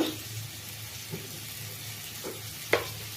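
Egg chilli masala frying in oil in a pan, a soft steady sizzle running through with a few brief scraping stirs and one sharper clatter near the end; no one talks.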